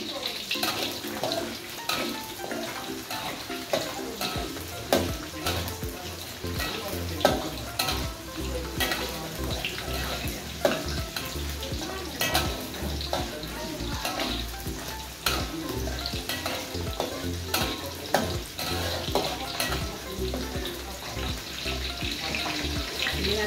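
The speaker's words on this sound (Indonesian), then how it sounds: "Saya sambil goreng lele ini untuk makan hari ini" Catfish frying in a pan, a steady close crackling sizzle running throughout with stirring noises, while someone talks over it.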